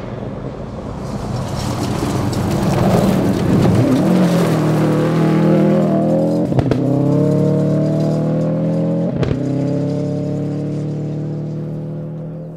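A black Subaru WRX STI rally car roars toward and past at high speed on a rally stage, its engine loud and revving, with a couple of sharp gear-shift breaks as it recedes.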